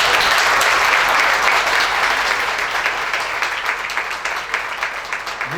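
Audience applause fills a hall at an Istanbul chartered accountants' chamber event, a dense, loud, continuous clapping that holds steady and tapers slightly toward the end.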